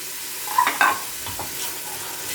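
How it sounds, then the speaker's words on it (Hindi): Spices are stirred into masala frying in oil in a pan over low heat, giving a steady soft sizzle with a couple of sharp scraping stir strokes near the start. "तमाम मसाले जात इसमें डाल देंगे"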